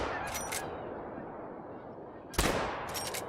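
A .22 rifle in a hunting video game fires at geese: one sharp, loud crack lands near the end over a steady outdoor ambience, with faint bird-like chirps scattered around it.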